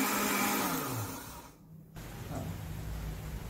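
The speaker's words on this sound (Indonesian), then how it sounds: "Bumbunya udah halus ya, kita bisa matiin blendernya." A kitchen blender whirs steadily while grinding spice paste, then cuts off briefly before a motor-like hum resumes at moderate level.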